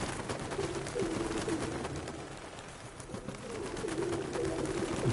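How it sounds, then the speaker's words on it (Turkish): Pigeons cooing in The Last of Us Part II, soft repeated coos rising and falling over a steady ambient background, moderately near. "Kuşlar, güvercinler sizi gidi sizi."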